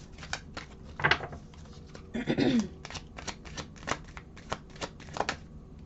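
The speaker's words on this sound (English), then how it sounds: "Let me get one more card, please." Tarot cards shuffled and drawn from a deck during a reading, a run of quick crisp riffling taps and flicks with a longer riffle burst near the middle, close and moderately loud, no voices.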